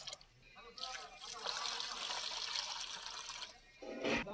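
Water poured from a vessel into a cooking pot while making a mixed vegetable potato, pea and carrot dish, a steady splashing stream lasting about three seconds, fairly quiet, ending in a brief louder splash.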